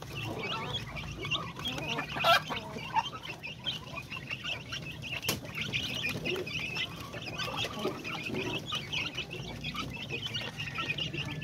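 Pinoy chickens clucking in a coop, several birds making soft, scattered clucks over a constant low murmur at a moderate distance.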